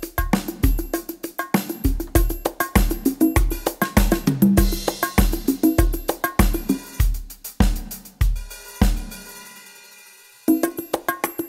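A steady electronic drum pattern from a Yamaha PSR SX900 arranger keyboard, with tight kick, snare and hi-hat hits in a brisk groove, briefly dropping out near the end before restarting.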